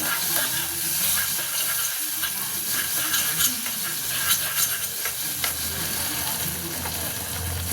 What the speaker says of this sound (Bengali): তেলে পোস্ত ভাজছি